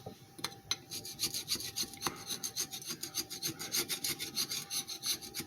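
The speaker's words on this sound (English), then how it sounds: "I'm right here with the scraper" A scraper rasps rhythmically across a cast iron gasket surface on an old General Engine Co. Model D Type 21, quick repeated strokes close up and fairly quiet.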